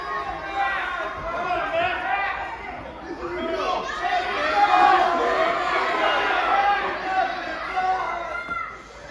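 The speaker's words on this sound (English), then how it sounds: "I heard some crowd members saying to take his mask." Wrestling show audience at a Citrus All-Pro Wrestling event, a steady roar of chatter and scattered shouts from many voices filling the arena, with one commentator's voice riding over the crowd throughout.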